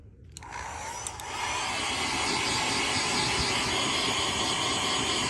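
A blow dryer switches on and runs with a steady, loud, close whooshing drone that holds for several seconds.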